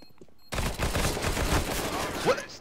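A Glock pistol in CS:GO firing a rapid, loud burst of shots that begins abruptly and continues almost unbroken for about two seconds, with a voice briefly heard near the end.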